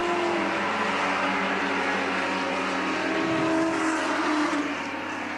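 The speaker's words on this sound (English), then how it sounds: "And Moffett takes the car into the pits." A 1975 touring race car engine at the Hardie Ferodo 1000 drones steadily at high pitch, fairly loud and continuous, easing off slightly toward the end as the car enters the pits.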